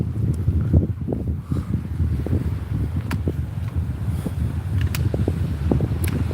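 Cold spring breeze blowing along a seaside promenade, a steady low rumble of wind buffeting the microphone for the whole stretch, with scattered soft rustles and gusty thumps and no voices.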